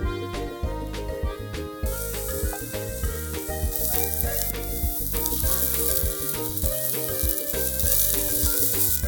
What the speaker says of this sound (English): Fry the mushrooms.